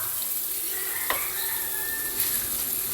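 Bitter gourd (ampalaya) hits a hot pan with oyster sauce nearby, giving a steady close hiss of sizzling with a brief stir clatter partway through.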